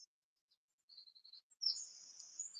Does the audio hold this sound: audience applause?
no